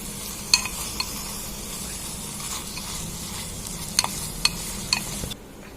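Mint and coriander being stirred into biryani masala in a pan for a mutton biryani: steady low sizzle with a few sharp spoon scrapes and clinks near the end, no talk, ending in a sudden drop to quiet.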